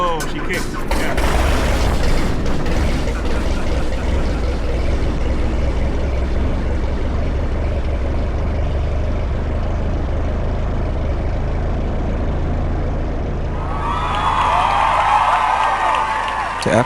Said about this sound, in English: the freshly overhauled engine runs perfectly